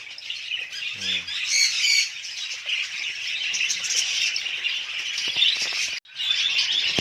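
Caged breeding birds squawk and chirp continuously in a dense, loud chorus, with one short deeper call early on and a brief dropout near the end.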